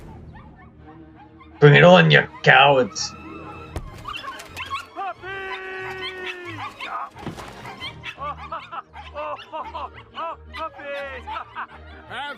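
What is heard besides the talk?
puppies barking in a Disney trailer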